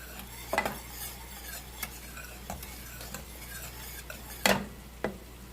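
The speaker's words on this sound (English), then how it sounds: "you just stir it every now and then and you'll start seeing the cheese will start melting in here" American cheese slices melt into a milk and cream mixture in a pot while a utensil stirs, giving soft intermittent scrapes and clinks over a faint low sizzle, with no talking.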